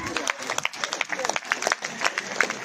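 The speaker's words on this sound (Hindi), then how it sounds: "एक बार फिर जोरदार तालियां हो जाए हमारे सिल्वर जुबली सेलिब्रेशन कमेटी के लिए।" Enthusiastic applause and scattered clapping from an audience at a school's silver jubilee celebration, honoring the celebration committee; a mix of close individual claps and broader crowd clapping with some voices mixed in.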